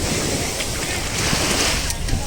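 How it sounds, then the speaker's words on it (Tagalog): Strong ocean waves roll in at a beach in Batangas, a loud, constant surf wash mixed with wind buffeting the microphone, with faint voices in the background. "lakas ng alon"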